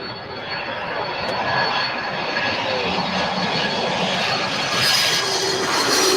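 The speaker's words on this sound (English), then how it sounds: "it looks like a 767-400 Delta" A Delta Boeing 767-400 jet airliner flies over near LAX, its engines producing a steady, broad roar that stays loud and constant throughout, with no voices over it.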